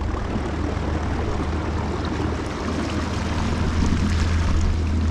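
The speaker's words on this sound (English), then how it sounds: "we got the two motors going on right now" Two electric motors on a Bonafide PWR 129 run at maximum speed, giving a loud, steady whirring roar with a low hum beneath, continuous and close with no talking.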